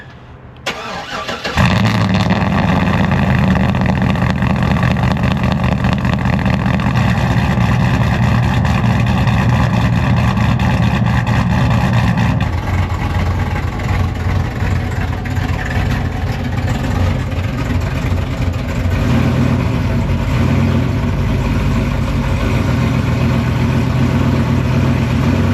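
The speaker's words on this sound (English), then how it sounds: "let's hit this thing with a cold start" A cammed truck with free exhaust and a factory Tahoe muffler or resonator cold-starts with a crank and loud bark, then settles into a high, loping, choppy idle that eases lower after about ten seconds.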